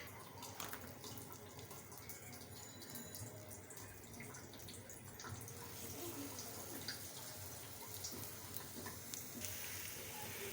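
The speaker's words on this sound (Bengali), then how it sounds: "পাকোড়াগুলো ভেজে নেব।" Egg and onion pakoras frying in hot oil, giving a faint, steady broadband sizzle and crackle that runs the whole time with no talking.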